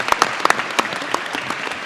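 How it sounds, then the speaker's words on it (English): An audience applauds a game's voice cast at an anime convention panel. The clapping is dense and steady with sharp individual claps, close and loud, and no voices break through. "can we please get another round of applause for this lovely cast?"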